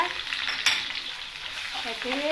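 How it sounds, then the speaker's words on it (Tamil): Ginger garlic paste sizzles in hot oil for a pumpkin stir-fry, a close steady frying hiss with a single sharp scrape of a spoon. "இஞ்சி பூண்டு ஒரு வாடை எண்ணெயில் நல்லா போட்டு வதக்குங்க"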